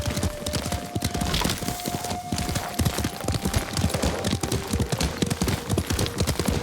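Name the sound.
horse hooves clip-clop, from a video game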